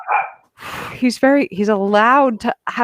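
A small dog gives a few short barks and yips, mixed in with close talk from a person nearby.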